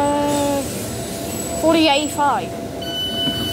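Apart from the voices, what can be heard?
metro train at station platform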